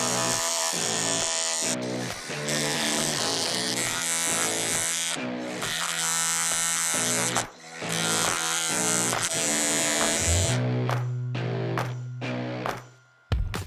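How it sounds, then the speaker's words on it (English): A Dremel rotary tool polishes aluminum blocking plates for a Sportster 1275 engine, giving a loud, high buzzing whine that runs for several seconds, dips briefly and picks back up, then cuts out into a few short bursts. "Just using a quick Dremel."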